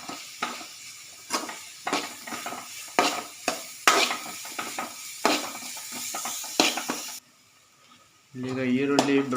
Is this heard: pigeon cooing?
no